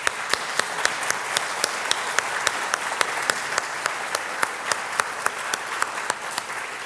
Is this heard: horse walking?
no